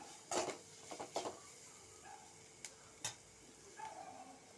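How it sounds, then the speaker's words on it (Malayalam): Potato stir-fry being stirred in a pan, with a few soft scraping and clinking strokes of a spoon against the pan spaced out over a few seconds, faint and close, with no talking. "നന്നായിട്ട് ഇളക്കി മിക്സ് ചെയ്യാം നമുക്കിതിലേക്ക് ഉപ്പ് ചേർത്ത് കൊടുക്കാം നന്നായിട്ട് ഇളക്കാം"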